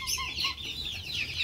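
Two-month-old chicks clucking in a flock, soft and fairly close, with a quick string of high chirping calls running continuously through the brief moment.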